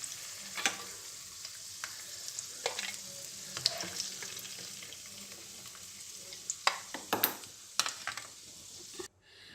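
Ghee sizzles steadily in a pan with cardamom powder for moong dal halwa, a close, even hiss broken by scattered spoon clicks and scrapes that grow busier toward the end before cutting off abruptly.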